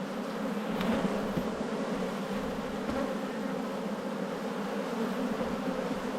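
Honey bees in an open hive in an Australian apiary, agitated, give a dense, steady buzzing drone that fills the space, close and unbroken throughout with no voices.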